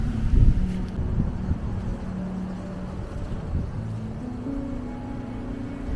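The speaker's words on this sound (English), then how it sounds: "There's a bit of wind around, but it's a beautiful day." Wind blowing steadily across open Essex countryside near a village church, a continuous low rumbling buffet against the microphone with a slightly stronger gust at the start, no talking.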